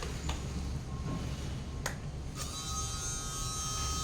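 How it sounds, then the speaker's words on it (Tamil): A small electric motor in a handheld pom-pom ball maker runs with a steady, faint buzzing whine throughout, with no voices. "ஒன்றாவது மோட்டர் ஓடும்"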